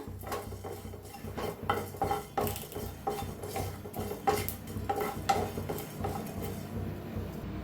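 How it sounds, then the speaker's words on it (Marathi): Cumin and coriander seeds dry roasting in a pan, with repeated scraping and clinking of a spoon against the metal as they are stirred, a steady close rattle throughout with no talking. "आता जिरं धनं जरा भाजून घेऊया"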